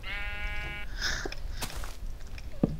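Blocky sheep in the game Minecraft bleat in a rapid, wavering cry, then more short bleats follow close by, fairly quiet with no talking over them.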